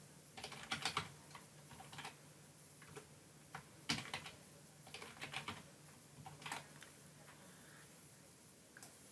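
Quiet computer keyboard typing while a password is entered, coming in short irregular bursts of soft clicks and taps with pauses between, fairly close and alone.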